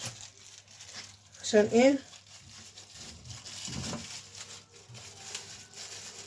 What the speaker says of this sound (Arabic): انا طلعت منها كيس